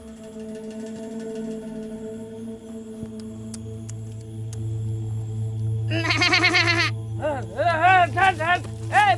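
A steady low hum fills the background, then a goat bleats loudly several times nearby, its wavering cries coming in quick bursts.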